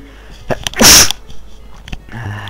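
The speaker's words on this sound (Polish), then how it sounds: "Lubię kichać. 100 lat." A single loud sneeze bursts out near the mic, with brief speech and small sounds around it.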